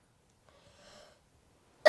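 A woman's single sharp cough bursts out at the end, after a brief faint breathy sound in a quiet room.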